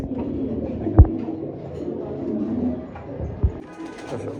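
Mundian pigeons cooing in a pigeon seller's loft, low soft coos repeating through the stretch, with a couple of brief sharp knocks standing out above the steady background.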